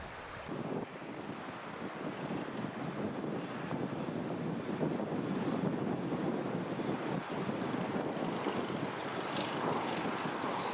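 Strong wind on a mountain trail in Bashkortostan buffets the microphone in a constant roar, with gusty rushing noise filling the whole stretch and no voices.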